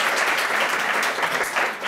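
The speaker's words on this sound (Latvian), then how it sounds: "Aplausi!" A crowd applauds at a gathering, steady dense clapping throughout, close and loud, with no talk over it.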